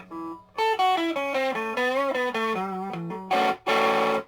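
A guitar plays a short descending melodic run through a buzzy, distorted Laney GH100L tube amplifier, ending with a couple of harsh, fuzzy strummed chords.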